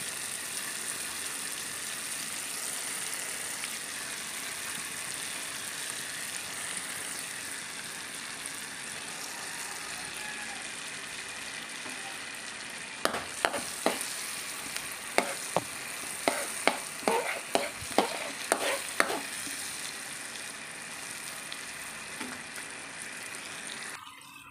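Garlic frying in a pan while cooking pork adobo gives a steady, close sizzle with sharp clinks and scrapes of stirring in the second half and no talking.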